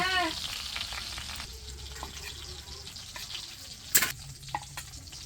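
Prawns fry in hot oil in a pan with a soft, steady sizzle, broken by a sharp metallic clink of a utensil partway through.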